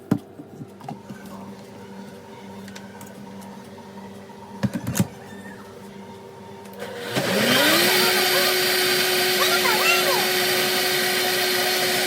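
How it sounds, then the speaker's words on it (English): Coconut being blended for homemade coconut milk: after some clattering handling noises and a low hum, a blender motor starts loudly about halfway through and runs steadily to the end, close and dominant, with voices talking around it. "And then we're going to be adding it to the blender."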